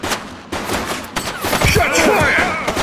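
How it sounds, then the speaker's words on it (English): Gunshots in the game The Precinct, a quick cluster of sharp cracks and rapid fire amid loud action noise over about three seconds. "Shots fired!"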